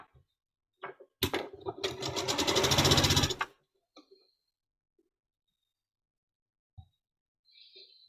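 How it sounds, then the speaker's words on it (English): A sewing machine stitching quilt fabric pieces together runs in one steady burst of roughly two seconds, close and fairly loud. A few soft handling clicks come before and after, then the room goes quiet. "let's get this one sewn together"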